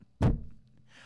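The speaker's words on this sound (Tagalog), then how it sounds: "Open kan drawer kang steel cabinet." A single dull metallic thunk as a steel cabinet drawer is pulled open, a sharp knock that rings briefly and fades within half a second, with no talking.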